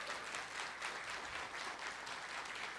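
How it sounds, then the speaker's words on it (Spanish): A large audience at a national teachers' recognition ceremony claps together in sustained applause, a dense, even patter of many hands that holds steady throughout without pauses. "vamos a expresar nuestro agradecimiento a Dios con este aplauso de gratitud hermoso que todos ustedes vamos a dar."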